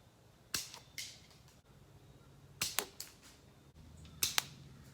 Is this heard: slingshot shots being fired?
yes